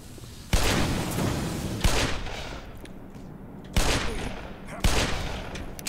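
Gunfire in the video game Black Mesa, four loud sharp shots spaced about a second or two apart, each followed by a lingering roar of reverberant noise.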